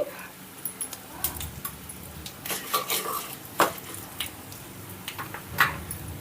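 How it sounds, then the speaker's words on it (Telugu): Cumin seeds dropped into a tempering pan for neer chutney and stirred, giving scattered spoon-on-metal clinks and scrapes over a faint, steady background hiss, with no voices. "ఇప్పుడు ఇందులోనే కొద్దిగా జీలకర్ర కూడా వేసుకుందామండి"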